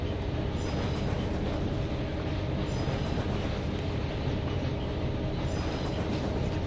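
A train runs steadily along the rails in the Trainz simulation game, a dense, continuous rumble with a faint clickety-clack rhythm and a couple of brief high squeals, moderately loud and with no voices.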